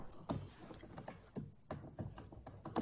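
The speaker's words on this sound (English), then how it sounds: "use the ratchet to get them all the way in" Quiet ratchet clicks from driving screws into the door switch panel of a 2000–2005 Chevrolet Impala, short uneven bursts of ticking close up.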